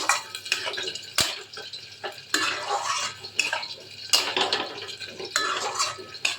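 Curry ingredients with prawns, fenugreek, potato and papaya are stirred in a pot, giving repeated scraping and clinking strokes of a spoon against metal, mixed with a wet, soft sizzle, close up and without speech.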